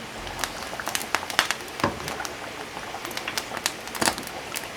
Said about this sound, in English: So we're going to pop in our pork belly carefully and start ladling over the hot oil.